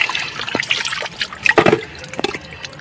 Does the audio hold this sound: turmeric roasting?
no